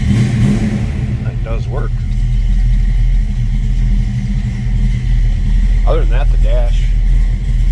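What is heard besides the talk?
1966 Ford Mustang coupe engine starting and running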